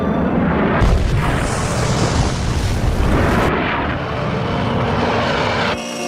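A jet aircraft roars in during a film scene from the 1992 low-budget movie Invader, with a loud, sustained broadband rush that swells, dips and tails off near the end, with no talking.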